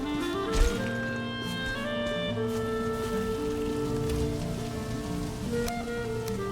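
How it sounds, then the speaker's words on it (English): Steady rain in the video game Valheim falls throughout, a continuous soft patter mixed under sustained in-game music tones, with no one talking. "And of course it's gonna rain."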